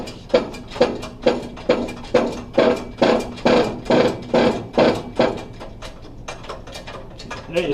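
A shop press seats a bearing onto a rear axle pinion with a steady series of about a dozen rhythmic mechanical pumping clanks, loud and close, easing off toward the end.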